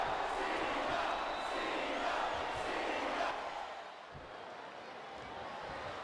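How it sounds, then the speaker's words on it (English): A WWE SmackDown vs Raw 2008 arena crowd roars as a steady, dense wash of cheering and chanting that eases off partway through, with muffled thuds underneath. "It sounds like this capacity crowd has something on their minds."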